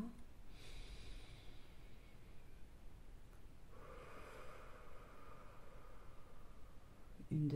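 A slow, deep breath in and out during a calm grounding exercise, two long airy swells of inhale and exhale, close and soft against quiet background hiss.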